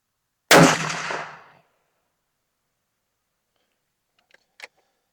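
Single loud rifle shot from a Remington 700 in .308 at a shooting range, a sharp crack with a short decaying tail, followed by faint metallic clicks a few seconds later.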